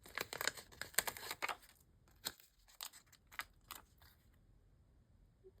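Backing peeled off a craft sticker, a run of close, crisp tearing and crinkling rustles, dense at first and then thinning into a few sharp scattered bursts before quiet.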